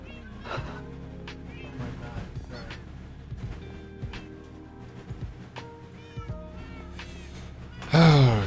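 Several cats in a video game meow repeatedly near a boathouse, the cries overlapping and varying in pitch, with a loud, close meow at the end, while a player talks over them.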